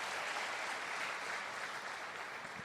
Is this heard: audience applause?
yes